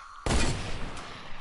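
Dense burst of gunfire in a video game, starting abruptly and continuing as a loud, sustained roar of overlapping shots that fades slightly toward the end.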